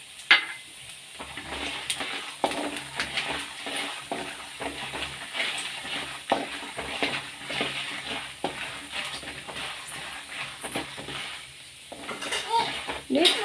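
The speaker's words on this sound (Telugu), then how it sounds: "ఆవాలు వేగేదాకా మనం ఇలా కలిపెట్టుకుంటూ వేయించుకుంటూ ఉండాలి." Mustard seeds, peanuts and urad dal fry in hot oil, with a light sizzle and frequent scraping and clinking as a spatula stirs the pan. A voice speaks over the cooking.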